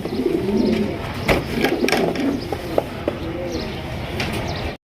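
Pigeons cooing at a pigeon farm, a soft, steady low murmur of calls over the whole stretch with light chirps and rustling around them.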